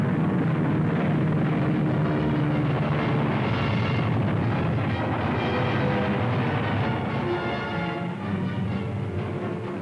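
Anti-aircraft barrage and explosions during a WWII air battle, heard as a continuous heavy rumbling roar with aircraft engine drone and muffled blasts on an old, noisy recording, with no voices.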